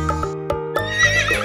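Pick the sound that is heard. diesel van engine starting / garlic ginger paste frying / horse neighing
horse neighing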